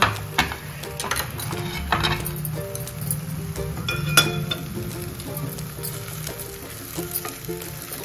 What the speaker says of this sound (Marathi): आता आपण यामध्ये तुळशीची पानं घालून घेऊया आणि छान हलवूया।